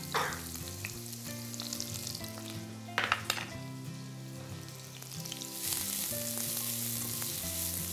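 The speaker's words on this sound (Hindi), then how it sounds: "प्याज को हल्का सा भूनेंगे," Green chilies and onion sizzle steadily in a hot pan for turai chutney, a continuous close frying hiss that swells louder near the end, with a couple of brief clinks partway through.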